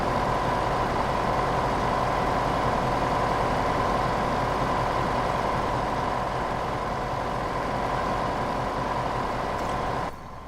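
A tractor ploughing a field in Farming Simulator 2015, its engine droning loud and steady with a constant low hum that runs unbroken until it cuts off abruptly at the very end.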